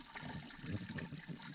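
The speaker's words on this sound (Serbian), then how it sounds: "Ajde, nali vodice." Water runs from a tap as a small child fills a cup in a village home, a steady close trickling and splashing that continues for the whole short stretch without any voices.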